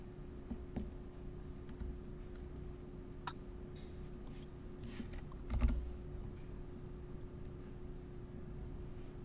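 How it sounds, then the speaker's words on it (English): Someone types on a computer keyboard with faint, scattered key clicks over a steady low hum, followed by one slightly louder knock. "I missed that first bit. I was typing."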